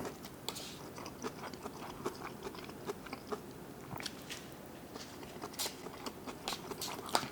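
Someone chews a mouthful of kimchi fried rice close up: soft, quiet, repeated bites and crunches in an uneven rhythm over a low background.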